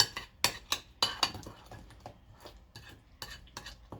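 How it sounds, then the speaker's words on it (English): A utensil scrapes and clanks against a pot as Cajun spiced potatoes are mixed, a run of irregular knocks and scrapes fairly close and clear, with no voices. "Give it a nice mix"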